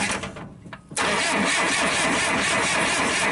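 A 1963 Ford Falcon engine with one injector left loose cranks briefly, then catches and settles into a loud, steady close idle.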